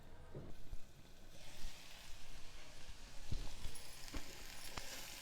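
Ridge gourd pieces stew in hot oil in a pan for a Telangana-style ridge gourd and black-eyed pea curry, giving a soft, steady sizzle with faint crackles and a few small clinks throughout, no voices.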